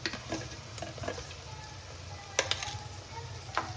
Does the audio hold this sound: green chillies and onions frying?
yes